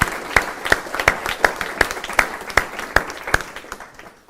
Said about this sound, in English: I want to take a minute and give a round of applause to those groups